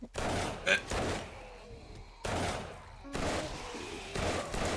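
Gunshots go off in the survival video game 7 Days to Die as a few heavy, booming blasts with echoing tails, spread over several seconds above a busy, noisy game soundscape.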